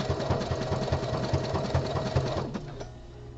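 A home sewing machine stitches the body panel of boxer briefs close by, its needle running in a fast, even mechanical rhythm before slowing to a stop near the end.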